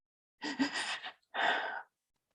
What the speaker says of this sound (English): So they're breathing in further, but it's got these pauses.